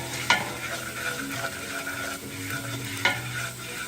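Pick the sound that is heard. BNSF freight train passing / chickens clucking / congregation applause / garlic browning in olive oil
garlic browning in olive oil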